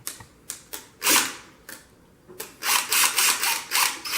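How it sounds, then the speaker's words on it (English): Ratcheting, clicking turns of a tool loosening a tension screw on a CutterPros Creation ProCut CR vinyl cutter, a string of sharp bursts coming quicker and louder toward the end, close by with no talk. "And I'm going to loosen up this screw."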